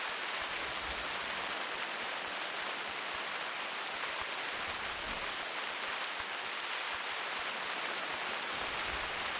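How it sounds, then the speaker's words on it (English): Rain falls outdoors as a steady hiss of fine drops, continuous and even, with soft low thumps scattered underneath and no voices. "looks like the rain's gonna ruin my video"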